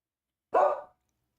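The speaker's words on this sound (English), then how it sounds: "I don't know why my dog is barking." A dog lets out a single short bark, loud and close, with silence before and after it.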